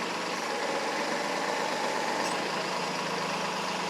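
A Kubota tractor engine idles steadily at close range, a constant broadband rumble with an even mechanical drone and no voices over the whole stretch.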